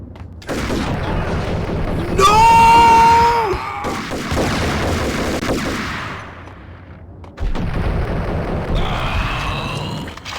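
Grenade explosion in the Max Payne video game, a loud blast amid gunfire bursts, crashing debris and a sustained ringing tone, with several heavy impacts across a chaotic firefight.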